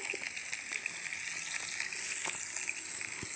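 Food grilling in a pan, a steady bright sizzle that hisses and crackles continuously, close and even throughout, with no talk.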